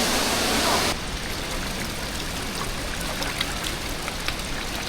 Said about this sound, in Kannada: ಅಷ್ಟು ದೂರದಿಂದ ಬೀಳ್ತಾರೆ ನೀರು, ಇಲ್ಲಿ ಗಂಟ ಬರ್ತಿದೆ.